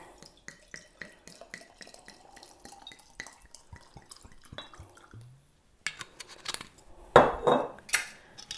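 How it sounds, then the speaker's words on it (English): Brandy is poured over lavender herbs in a jar after a series of light glass and metal clinks, ending in a couple of close, splashy bursts of liquid. "Pour the brandy over the top."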